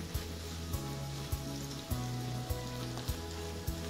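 Strips of BBQ-sauce-marinated turkey with vegetables sizzle steadily in a hot pan, a close, continuous frying crackle with small pops and a faint repeating tonal hum underneath.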